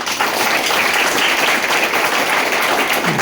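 Loud, continuous applause fills a hall at a direct-selling business seminar about the Vestige company, a thick wash of many hands clapping without pause from start to finish.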